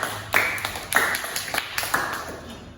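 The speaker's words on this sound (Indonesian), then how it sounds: "Kasih tepuk tangan buat kelompok 2." Students in a classroom clap for a group that has just presented, a thin scattered burst of roughly five or six sharp claps that trail off, with no talking over them.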